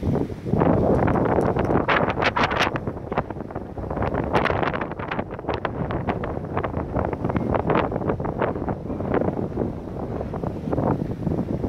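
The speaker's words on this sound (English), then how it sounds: "it feels a lot more windy than the numbers are showing" Outdoor wind gusting around a cheap digital anemometer, buffeting the microphone in a loud, continuous rumble with rapid flutter and crackling peaks, heard alone without any talk.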